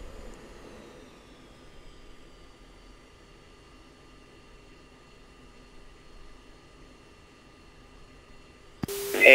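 Jet aircraft idling and taxiing in the Falcon BMS flight simulator, a steady engine whine and hum held at an even level throughout, ending in a sudden loud burst of noise.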